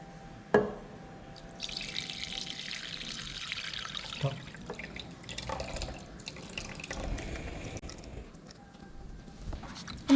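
Homemade kiwi wine poured through a cleaned net into a bowl, making a soft continuous splashing and trickling with a few drips, fairly quiet and close.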